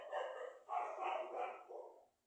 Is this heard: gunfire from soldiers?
no